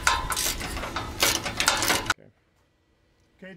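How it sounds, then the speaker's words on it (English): A tool working loose the 13 mm front bumper bolts on a Land Rover LR3 gives a busy mechanical whirring and clicking for about two seconds, then cuts off to near silence with a faint clunk at the end. "And now we're going to remove the bolts."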